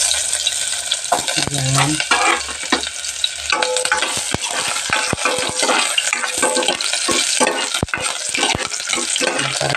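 Ginger fries in hot oil and is stirred around the pan, giving a loud continuous sizzle broken by repeated sharp scraping knocks, with a brief voice at the start.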